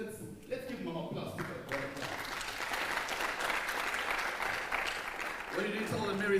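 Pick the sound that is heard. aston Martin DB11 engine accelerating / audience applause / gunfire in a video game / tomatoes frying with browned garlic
audience applause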